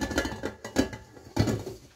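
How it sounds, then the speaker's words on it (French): Ingredients for brioche dough, sugar, eggs and salt, mixed in a bowl, giving irregular clinks and scraping knocks of a utensil against the bowl, three louder bursts spaced across two seconds at close range. "je vais tout mélanger mes ingrédients qui me restent"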